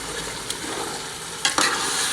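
A cabbage, egg and chicken curry is stirred in a pan with chicken-boiling water added, a steady sizzle broken by a couple of clanks from the utensil against the pan.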